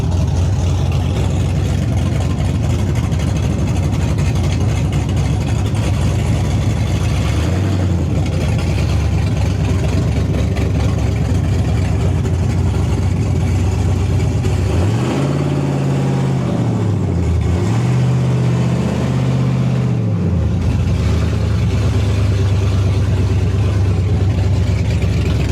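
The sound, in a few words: loud Chevy S10 truck with Holley Terminator X engine driving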